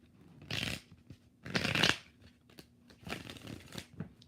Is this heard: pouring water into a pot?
no